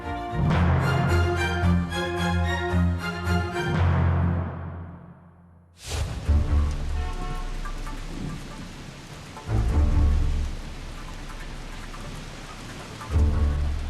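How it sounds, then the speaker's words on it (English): Rain falls steadily on a cold day in Wellington, a continuous hiss of drops that breaks off briefly before resuming, with bursts of louder, heavier rainfall and low rumbling underneath. "It's a cold and rainy day in Wellington"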